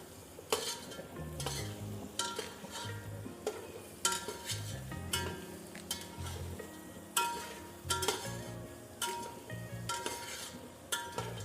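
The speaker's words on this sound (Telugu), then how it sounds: "ఈ మసాలా మొత్తం పట్టిన చికెన్ కొట్టిద్దాం" Chicken coated in masala being stirred in a pot for country-chicken biryani, with repeated metal spoon scrapes and clinks against the pot in an irregular rhythm over a quiet sizzle, close by and without talk.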